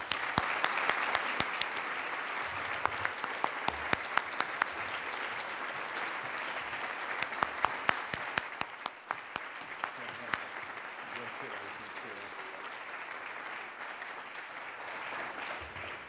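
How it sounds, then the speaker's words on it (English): A breakfast audience at a conservation awards event bursts into sustained, dense applause that fills the room for about sixteen seconds, with sharper individual claps standing out early on before the clapping settles and slowly thins. "let your applause signal your appreciation and serve as a source of encouragement"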